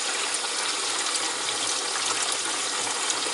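Water runs from a kitchen tap in a constant, even hiss and splash, steady throughout and moderately close, with no voices.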